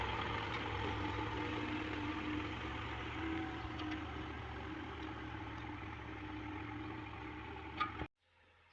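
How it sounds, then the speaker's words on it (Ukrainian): A farm tractor idles in a rural Ukrainian garden plot on its first outing of the year, a steady low engine rumble close by that runs unbroken for about eight seconds before cutting off abruptly into near silence. "Перший виїзд трактора в цьому році."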